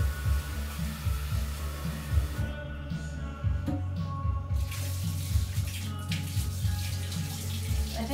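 A tap runs steadily into a sink while chickpeas are rinsed, giving a continuous, close, moderately loud splashing flow with small shifts in tone as the water hits.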